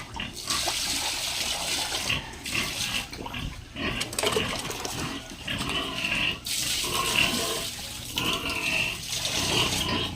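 Pigs drink and slurp water from a trough in a pen, with wet splashing and gurgling mixed with low grunts, steady and close throughout.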